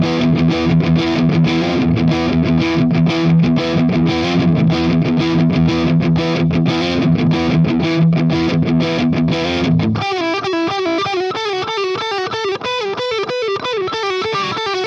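Electric guitar with a heavily distorted metal tone on the bridge and middle pickups, first fast palm-muted chugging chords, then sustained ringing single-note lines, loud and close throughout.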